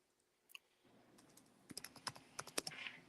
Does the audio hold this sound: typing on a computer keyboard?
yes